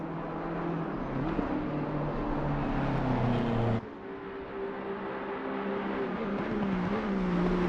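Race car engines in the sim racing game Assetto Corsa Competizione at Bathurst whine steadily at high revs, with a sudden shift in pitch midway, like a gear change, moderately loud and continuous.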